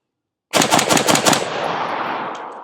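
A rifle fitted with a Rearden/Plan B compatible suppressor fires a rapid burst of about five loud, close shots, followed by a long fading echo.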